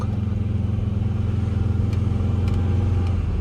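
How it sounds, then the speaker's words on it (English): A 2006 Volvo XC70 engine drones steadily under throttle, a close, even low hum with faint clicks heard from inside the cabin. "as soon as you put her in drive and step on the gas, smooth as silk"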